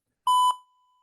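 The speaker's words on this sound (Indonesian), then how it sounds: "buzzer sudah berbunyi yang ditandakan dengan ada lagu-lagu di sini tadi." An electronic buzzer on a distance sensor circuit gives one short, steady, clear beep that stops abruptly and leaves a faint fading ring.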